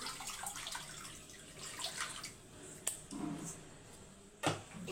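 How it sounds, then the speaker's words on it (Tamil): Dissolved tamarind water poured into a pan already holding sesame oil for a fish curry gives a soft continuous watery splash and trickle, with a couple of sharper clinks and sloshes near the end. "புளி ஒரு 75 கிராம் புளி, அதை வந்து இந்த வாணலியிலேயே ஊற்றிக்கோங்க கரைச்சி."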